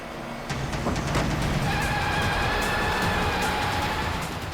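A car driven fast and recklessly gives a loud, steady roar of engine and road noise that holds throughout, with thin squealing tones rising partway through.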